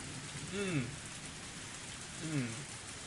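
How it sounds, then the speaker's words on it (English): Heavy rain pours steadily in Higurashi When They Cry Hou, a constant hiss of rainfall with two brief murmuring voice-like sweeps rising above it. "a heavy rain started pouring down"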